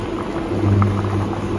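Fish soup broth boils hard in a pot, a dense, close bubbling and popping that continues loudly and alone.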